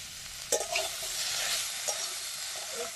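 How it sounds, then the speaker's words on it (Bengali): Eggplant curry base frying in a pan with salt and turmeric, sizzling steadily while a utensil stirs with a few sharp scraping knocks, close and alone without voices. "একটু নাড়াচাড়া করে ভেজে নেব"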